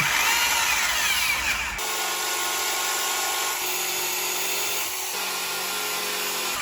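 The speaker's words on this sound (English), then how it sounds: "That drill's 800 watts, bro. Crank it." A powerful 800-watt electric drill runs steadily at high speed, a loud continuous whine and grind that shifts slightly in pitch as it bites.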